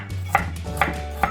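Fresh ginger is sliced on a cutting board: three crisp knife strikes land on the board at an even pace, close but fairly quiet, with no talk.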